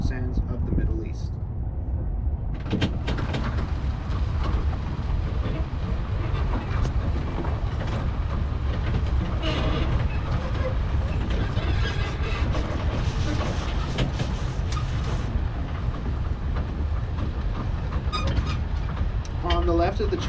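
A museum tram rolls along with a steady low rumble and faint clattering throughout, while a guide's voice narrates over it.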